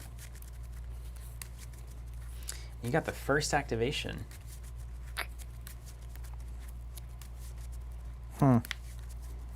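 A deck of Skytear game cards is shuffled at a table, with soft papery riffles and flicks under a steady background hum while people talk briefly.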